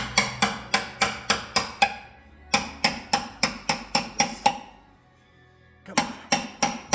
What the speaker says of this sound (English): So we got the punch here and a hammer.